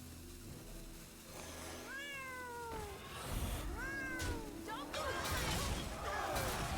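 Cat meows from a Hearthstone-style card game, a few short rising-then-falling cries over game music and clattering effect sounds, moderately loud.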